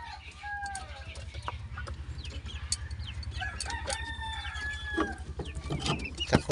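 Chickens cluck repeatedly at moderate volume, with short calls and cackles scattered over a continuous low droning hum.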